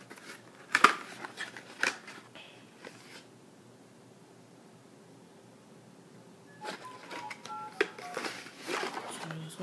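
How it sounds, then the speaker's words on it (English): A phone gives a quick burst of electronic beeps and tones, with sharp taps and clicks around it, then goes quiet before more soft handling noises and short tones near the end. "So that's my phone."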